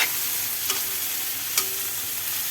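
Garlic fries in a pan, not browned much, with a steady bright sizzle, close and continuous, broken by two sharp stirring clinks against the pan.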